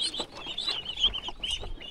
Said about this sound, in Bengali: আর এই যে হাঁসের খামার